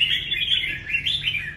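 A red-whiskered bulbul in its second or third season sings loud, close, bright warbling phrases in a continuous run, with no other sounds around it.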